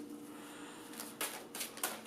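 Quiet, close papery rustling ends in a few quick bursts of cards being riffled and flicked together.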